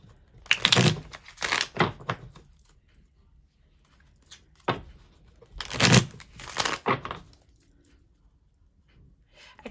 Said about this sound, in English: So I'm gonna keep the shuffling in the videos.